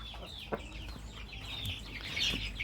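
A red hen clucking softly in short repeated calls over a low background hum, faint and close, with no one speaking.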